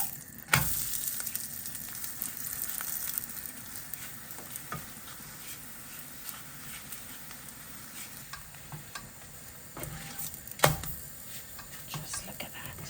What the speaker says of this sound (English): I've got this lovely chili ghee that I've been meaning to use, so I am going to cook this in ghee